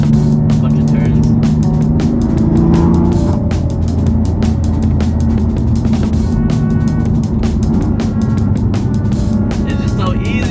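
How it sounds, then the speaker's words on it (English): A BMW M4 engine drones and shifts through canyon turns, loud and close throughout, with a voice speaking intermittently over the engine noise. "So now we're just taking it down like this little canyon thing."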